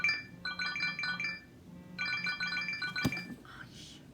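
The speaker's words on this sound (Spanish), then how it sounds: "era mi teléfono que se conectó" A mobile phone sounds a melodic ringtone of quick repeated chime bursts in two phrases, followed by a sharp click, heard indoors with some faint room noise.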